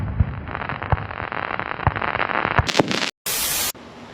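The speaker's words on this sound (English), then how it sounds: "firework going off or breaking low." A firework breaks low at a summer show, giving sharp popping cracks and crackle from a distance, followed by a short burst of hissing noise.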